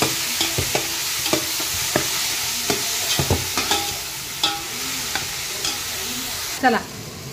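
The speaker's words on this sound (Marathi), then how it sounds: "आता हा कांदा छान परतवून घेऊ।" Finely chopped onion fries in a pan with cumin and asafoetida, a loud continuous sizzle punctuated by frequent scraping stirs of a spoon, close up with no speech.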